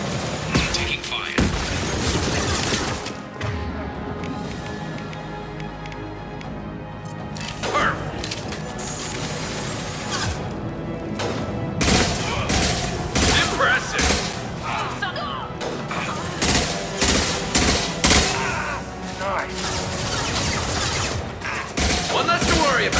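Gunfire in a Mass Effect 2 firefight: bursts and single shots crack repeatedly amid booms and impacts, with character voices and battle chatter over the din.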